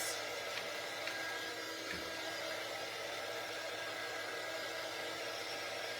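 A hair dryer drying a craft piece runs with a steady, loud whooshing roar that stays constant throughout, without any talk.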